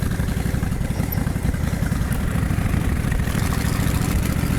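Honda VTX1300 motorcycle engine running with a loud, steady low rumble and rapid, even pulsing throughout, heard up close.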